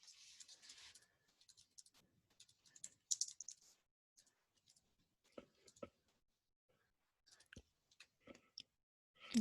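Keys on a computer keyboard tapped in short, scattered bursts and single clicks, quiet and close, with long pauses between, while a software interface is laid out.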